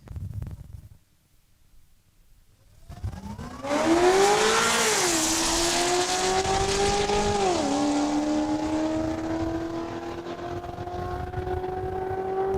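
A 2014 Mustang and a 2008 supercharged Corvette launch down a quarter-mile drag strip at Saskatchewan International Raceway, engines roaring loud and close after a brief lull, revving up through rising gear shifts and holding a sustained high drone.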